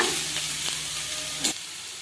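Crushed green chili paste sizzling and frying in a pan for a hesarukalu palya, a steady close hiss with a few stirring scrapes before the sound cuts off sharply.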